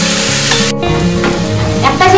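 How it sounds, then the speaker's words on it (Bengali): Vegetables fry in a pan with very little oil, making a loud, close, continuous sizzle with scraping stirs and the clink of a utensil, and no one speaks. "আমি তার মধ্যে ভেজিটেবলসটাকেও ফ্রাই করে দেবো"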